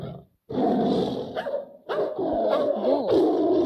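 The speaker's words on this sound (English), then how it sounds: "Dog." A cartoon dog gives a few loud, close barks and growly yelps in two main bursts with a short pause between them.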